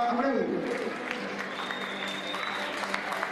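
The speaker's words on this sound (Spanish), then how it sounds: "Gracias por los aplausos." Applause at a Central American and Caribbean Games medal ceremony in San Salvador, a short round of clapping from a crowd that tapers off quickly, under and around an announcer's voice over a public address system.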